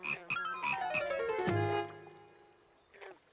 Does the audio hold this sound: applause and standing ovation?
no